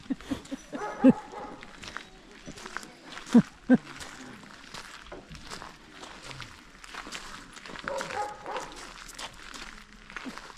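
Sled dogs at their dog houses in a Denali kennel yard, with a few short sharp barks and yips, scattered footsteps and shuffling, and people talking softly throughout.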